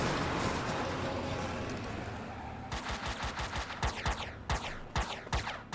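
Gunfire in Max Payne 2 comes as a rapid burst of loud, close shots in quick succession after a stretch of roaring noise, sharp repeated cracks, with no one talking.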